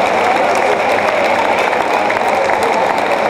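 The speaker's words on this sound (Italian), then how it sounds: "Un bel applauso, accoglierli" A crowd applauds steadily to welcome the Under 20 team players at a team presentation in Rovato, with dense, continuous clapping for the whole stretch.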